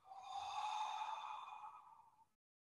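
A single long, soft exhale through the body during a mindfulness session, fading steadily and ending in silence.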